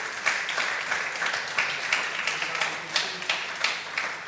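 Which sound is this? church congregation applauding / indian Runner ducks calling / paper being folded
church congregation applauding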